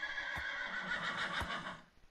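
A Minecraft horse gives a short, close whinny in the video game, a quick quavering call with a faint hoof tap at the start and again near the middle.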